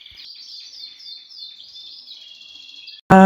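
Java sparrows in a birdroom give a continuous run of high, thin chirps and twittering notes, close by and fairly soft. A sudden loud burst of a different sound cuts in at the very end.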